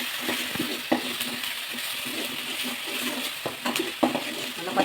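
Ginger garlic paste with popped mustard seeds, cinnamon and clove sautéing for egg kuzhambu: a close, steady sizzle broken by frequent spatula clinks and scrapes against the pan.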